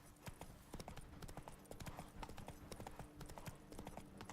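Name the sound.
horse Roach galloping in video game The Witcher 3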